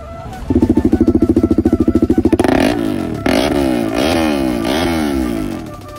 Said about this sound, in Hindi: So guys most viral Duke in Silchar dual exhaust.